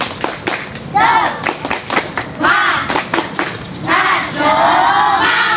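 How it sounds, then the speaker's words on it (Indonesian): Schoolchildren in a physical education class perform a spirit clap, sharp rhythmic claps in quick bursts mixed with loud group chanting and shouting, fairly close and energetic. "Oke, tepuk semangat."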